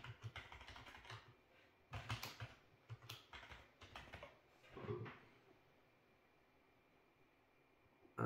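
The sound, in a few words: typing a password on a computer keyboard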